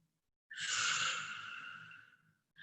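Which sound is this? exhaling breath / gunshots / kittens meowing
exhaling breath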